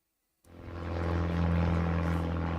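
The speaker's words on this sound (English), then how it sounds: "The sound of helicopters flying overhead" Helicopters fly overhead near the BC wildfires, a rotor and engine drone that swells in suddenly and holds loud and steady with a low pulsing throb, alone without talk.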